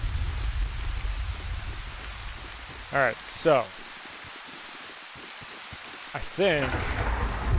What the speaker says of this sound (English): the loudest thunder I've heard in a long time